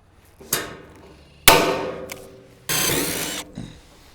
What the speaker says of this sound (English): to kind of round these corners out with either a ball peen hammer or a screwdriver